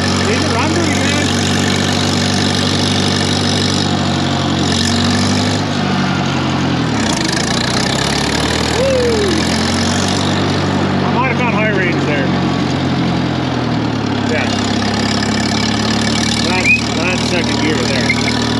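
A Case 800 LP tractor, left sitting for over fifteen years, runs with a loud, close, steady engine drone while driving, its pitch dipping and rising as it is shifted up through the gears.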